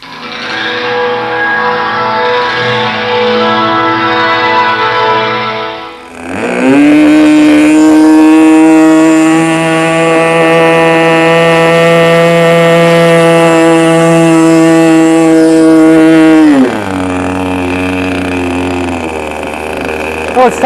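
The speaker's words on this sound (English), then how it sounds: "We've held the nose up to make sure the engine is not too lean." A small glow engine on a radio-controlled model trainer airplane runs steadily at a buzzing pitch, then jumps to a louder, higher whine for about ten seconds before dropping back, heard close up with no talk.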